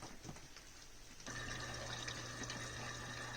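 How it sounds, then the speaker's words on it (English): A Splendide 2100XC washer-dryer starts filling with water, a quiet hum giving way to a steady rushing inflow with a low motor drone, continuous and faint from partway through, with no talking. "we're going to hit start, and we're going to let it fill up again."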